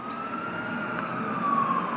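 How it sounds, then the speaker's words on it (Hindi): A siren wails steadily with a sustained tone that drifts slowly, heard at moderate distance over low traffic rumble. "पुलिस का सायरन।"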